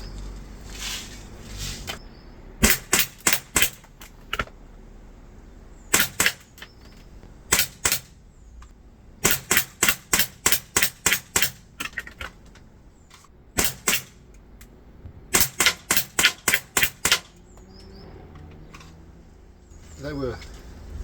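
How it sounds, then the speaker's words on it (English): An ASG CZ75 BB pistol fired rapidly from about 30 feet, producing several bursts of crisp, sharp cracks with blowback snapping, clustered in quick runs separated by pauses, loud and close. "I'm going to put fewer BBs in the gun and just have at it fairly rapid fire"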